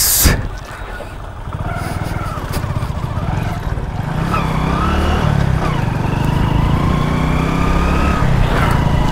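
A loud off-road vehicle engine rumbles and revs while driving over rough ground in Ladakh, the noise rising and staying strong throughout.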